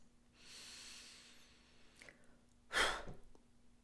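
A single deliberate breath blown out forcefully through the mouth, a short loud whoosh heard alone after quieter breathing, as part of a calm self-care exercise.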